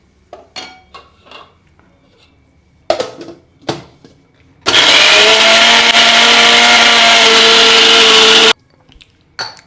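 A mixer grinder grinding tomato, tamarind and fenugreek leaf chutney, first in a few short pulsed bursts, then in one loud continuous whirring run of about four seconds that stops abruptly.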